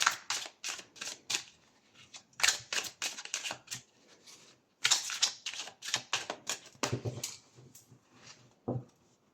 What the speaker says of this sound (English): I just shuffled this deck